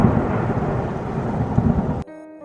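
A long, rolling thunder rumble from a storm fills the air with a dense low roar, then cuts off abruptly into a quieter tonal hum near the end.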